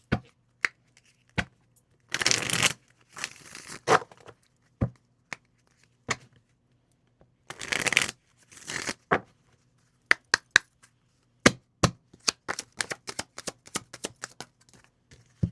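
Black Hollywood Romance Stars oracle cards being shuffled by hand in irregular bursts of riffling and slapping, mixed with many short sharp taps from the cards, close and clear in a quiet room, with no talking.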